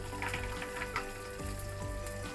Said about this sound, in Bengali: এবার আমি ভালো করে একটু ফ্রাই করে নেব।